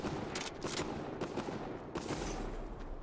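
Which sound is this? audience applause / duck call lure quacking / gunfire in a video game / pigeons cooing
gunfire in a video game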